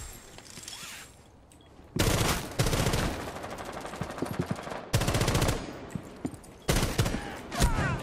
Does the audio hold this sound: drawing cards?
no